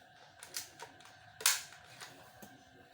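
Sharp snapping shots from an AR15-style D-Cobra M416 airsoft gun test-fired at a target, a few distinct clicky cracks spaced irregularly, one louder burst in the middle, fairly close and without talk.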